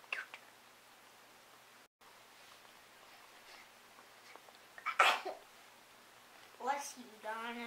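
A single sharp sneeze bursts out in a quiet home, near and fairly loud, after a stretch of low background hiss, followed shortly by a brief voice.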